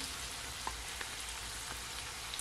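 Canned ackee sizzles as it goes into a hot pan for Jamaican ackee and saltfish, a steady frying hiss with a few soft pops, fairly quiet and without talk.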